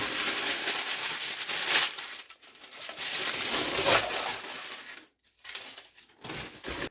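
Baking paper and unrolled puff pastry being handled on a kitchen counter, close-up crinkling and rustling in irregular bursts with short pauses, no talk.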